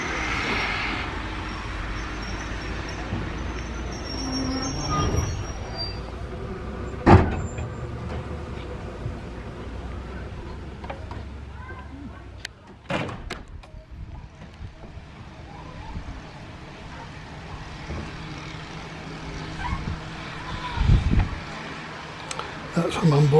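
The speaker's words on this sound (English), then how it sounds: "That's from on board the train." Inside a moving train on the West Somerset Railway, a low rumbling ride noise carries on throughout with a few thumps and rattles, quiet and steady under occasional background sounds.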